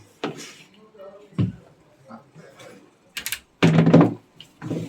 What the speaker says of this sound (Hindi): ये तो बंद कर दो दरवाजा